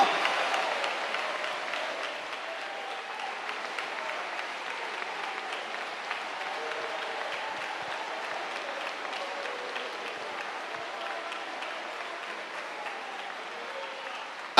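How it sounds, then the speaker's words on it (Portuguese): Church congregation applauding during a divine healing service in Porto Alegre, a long, sustained ovation of many hands heard somewhat distant and reverberant, fairly soft and steady throughout. "Dê uma salva de palmas para esse Jesus maravilhoso"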